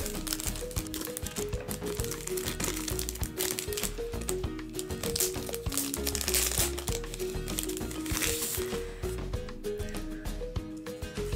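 Plastic packaging around a pink Barbie party dress from a Complete Look fashion pack being opened, a steady close run of crinkling and crackling with small clicks and tears throughout, with no talking.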